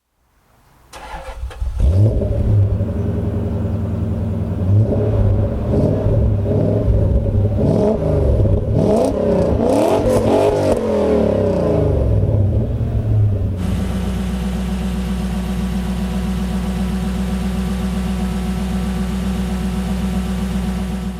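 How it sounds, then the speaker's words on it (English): A powerful V8 sports car engine starts up and revs hard several times nearby, then settles into a deep, steady rumbling idle. "Okay, so that's shown you the V8."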